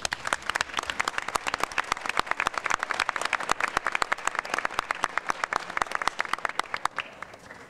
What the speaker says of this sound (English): So if we could just please give them a quick round of applause.